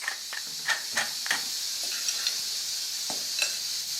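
Mango salsa with lime and salt is stirred in a bowl, making soft, irregular clicks and wet scrapes over a steady background hiss.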